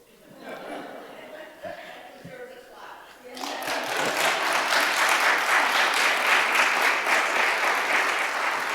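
Audience applause breaks out after a few seconds of quieter talk and laughter, swelling into steady, sustained clapping from a full room that carries on to the end.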